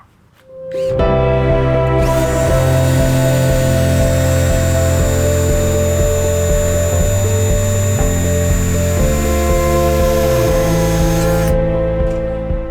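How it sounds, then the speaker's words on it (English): A lawnmower blade being sharpened on a grinding stone with a blade sharpener, a loud steady motorized whine with a sustained tonal hum and grinding rasp running for about ten seconds, then spinning down. "Then we're just going to guide it along and sharpen up this blade"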